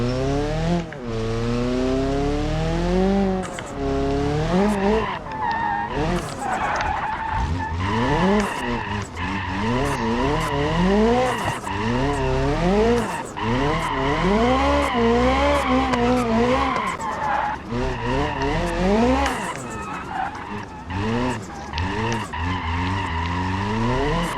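A car drifting in BeamNG.drive, its tires squealing and skidding continuously while the engine revs rise and fall in long sweeps, loud and sustained throughout with no talking.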